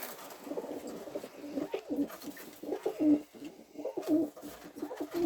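Pigeons coo in a loft, with several soft, throaty, rolling calls overlapping close by in repeated bursts and a faint background hiss, without any speech.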